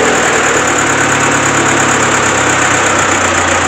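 Old car with about 450,000 km on it and a small leak, idling with a steady, loud, slightly knocking engine and exhaust rumble throughout, with no talk.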